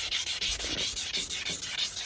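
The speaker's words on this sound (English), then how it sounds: "Now I've got just some 320 grit emery cloth" A one-bottom plow is rubbed down with 320 grit emery cloth to clean off rust pitting, producing quick rhythmic scratchy strokes, about a dozen close, loud back-and-forth rubs in a row.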